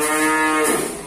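A female Limousin calf of about six months gives a single short, close moo with a nasal, harmonic tone and no talk over it.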